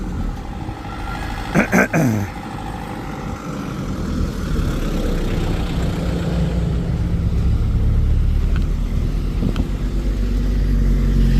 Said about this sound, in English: So these are all tour bus from the cruise, taking them out on their tours.